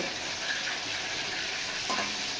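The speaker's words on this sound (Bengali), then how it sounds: "এদিকে মাছ ভাজাও হচ্ছে" Fish fries in hot oil, a continuous close sizzle with soft crackling and a brief stirring sound midway, no speech.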